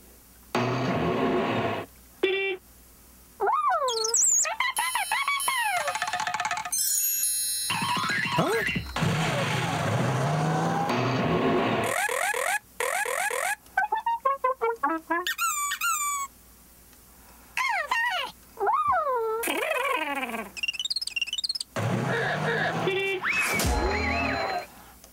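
Squeaky, warbling Zhu Zhu Pets toy noises and electronic bleeps tumble over one another in quick bursts, broken by short silences, loud and busy throughout.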